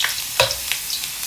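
Ginger sizzling in hot cooking oil with a crisp, crackling hiss and a few sharp stirring scrapes, close and alone.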